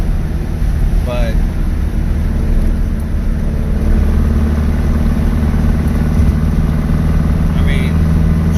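A Baja car's engine fitted with Weber IDF 48 carburetors drones steadily from inside the cabin while driving, a low, even rumble with brief voice sounds over it.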